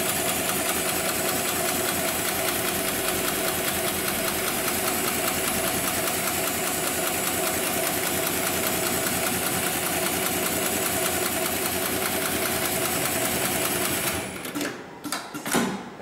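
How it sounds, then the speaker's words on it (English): An industrial bartack sewing machine, model 71008R, stitches heavy webbing with a loud, continuous, close mechanical chatter. Near the end the run stops and gives way to a few sharp clicks and clunks. "that'll initiate the sewing sequence"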